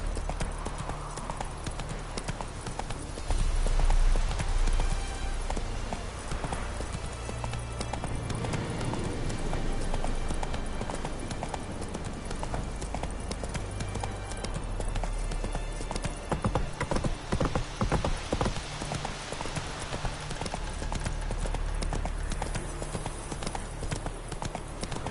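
Horse hooves clip-clop in a steady rhythm from a video game, with occasional snorts and busy game background sound underneath.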